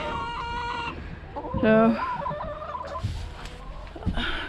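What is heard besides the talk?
chickens clucking in their coop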